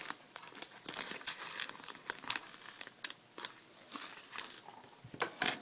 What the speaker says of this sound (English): open up your bag of beads